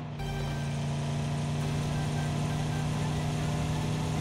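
Steady droning car engine in PUBG Mobile, a constant close hum running without break, with no talk over it.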